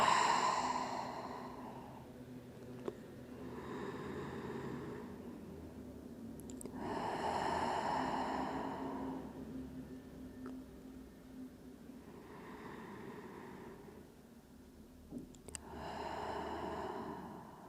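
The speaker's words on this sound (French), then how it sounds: "Et on prend 3 respirations" Slow, deep breaths in a pilates class, four or five long, airy inhale-exhale cycles spaced evenly and heard close, quiet and unhurried against a faint room hum.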